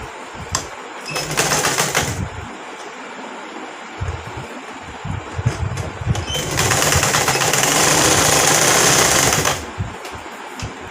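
A sewing machine stitches a long frock kurti in two bursts of rapid, even mechanical whirring, a short run followed by a longer, steadier one, with quiet handling noise between them.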